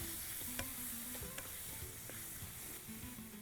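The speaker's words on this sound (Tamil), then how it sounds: "இதில் மிளகாத்தூள், மஞ்சத்தூள், தனியாத்தூள் போட்டு நல்லா மிக்ஸ் பண்ணிடுறோம்." Quiet, steady frying sizzle of chili, turmeric and coriander powders with occasional spoon scrapes as the pan's contents are stirred, close by and without talking.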